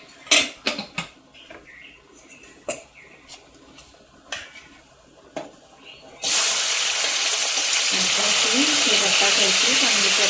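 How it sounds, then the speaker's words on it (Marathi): Prawns frying in a pan for Konkani-style prawn curry: a few clinks of utensils first, then a loud, steady hiss of sizzling takes over for the rest, close up. "आपण कोळंबीला परतून घेऊ थोडीशी, म्हणजे वास बीस नाही येत आणि चांगली पण लागते"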